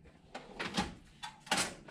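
Drawer of a garage tool box slides open and shut, several quick, faint metallic scrapes and soft knocks close by, with no talk.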